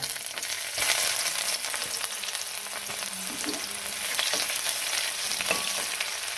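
Steady, crackling sizzle of crushed garlic and ginger frying in hot oil for pickle, close and continuous, with occasional pops and a stirring scrape; no talking.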